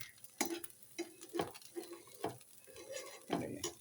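Rava dosa cooking on a hot pan, a faint sizzle broken by several scraping, clinking strokes of a utensil against the pan at irregular intervals.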